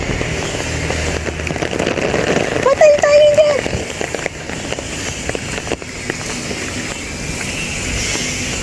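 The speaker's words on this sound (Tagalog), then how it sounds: "Ala, lakas na ng ulan." Constant dense hiss of heavy rain pouring down, with a brief tonal voice-like sound partway through, loud and steady throughout.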